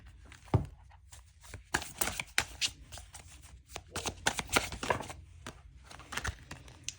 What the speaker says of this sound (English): Let's pull the next three cards so we have a full set.